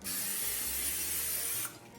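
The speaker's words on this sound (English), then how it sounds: "So we're gonna just put a little bit of cooking spray lightly on these." Cooking spray applied lightly to apple turnovers, one sustained close aerosol hiss lasting about a second and a half and then cutting off, with no talk.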